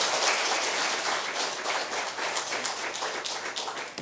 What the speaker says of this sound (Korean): 우리 박수 한번 주시길 바랍니다.